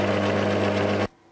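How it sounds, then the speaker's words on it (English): A stubby centre drill cuts into metal while parts are made for a one-off steampunk clock machine, a steady, loud mechanical whine and hum running alone for about a second before cutting off abruptly. "I'll put a centre drill in there, which is a really stubby drill, so it won't wobble around"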